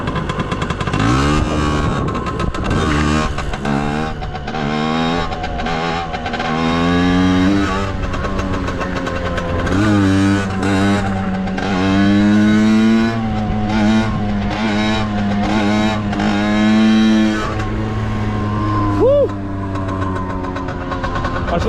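A borrowed Chinese Piwi 80 mini motorbike revving repeatedly while ridden, its engine note rising and falling in loud, close bursts and sustained climbs, with a brief voice or two.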